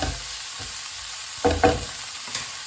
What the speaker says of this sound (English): So we'll get them cooking in with those onions.